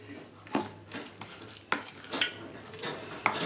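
A spoon scrapes and clinks against a bowl while mixing vegetable fritter batter with melted margarine, making soft irregular taps and swishes that sound close and fairly quiet.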